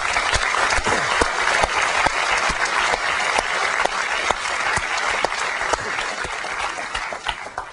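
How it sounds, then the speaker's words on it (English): A large audience at a 2001 Apple special event applauds the engineering teams, steady dense clapping filling the hall for the whole stretch, loud and continuous with no voices over it. "And I'd just like to give them a round of applause."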